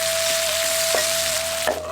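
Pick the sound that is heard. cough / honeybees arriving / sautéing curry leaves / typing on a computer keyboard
sautéing curry leaves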